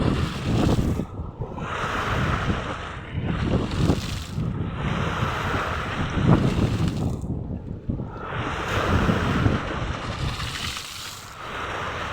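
Strong sea waves surge and crash in repeated heavy swells along the shore. Gusty wind buffets the microphone, and the roar rises and falls without any talking.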